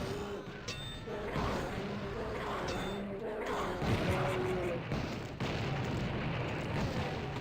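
A napalm launcher fires in the video game Blood, with rumbling explosive blasts and crackling fire layered in a dense, continuous barrage of game noise.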